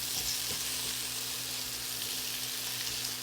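Cabbage and potatoes fry in a pan while being stirred, a steady close sizzle with faint scraping of the spoon running continuously, no talking.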